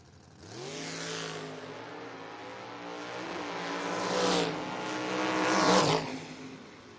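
A Mustang drag racing car launches at a footbrake drag racing event, its engine revving hard and climbing in pitch through the gears, loud and close, building to a peak before fading.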